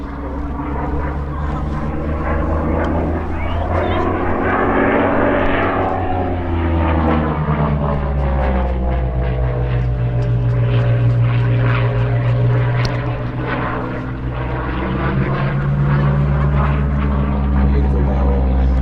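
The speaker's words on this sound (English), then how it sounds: "Just listen to the noise of this as Jim brings it around" A Spitfire Mk.V propeller aircraft roars past at the Sywell Airshow 2024, its deep engine drone rising and falling in pitch as it sweeps by, loud and continuous throughout.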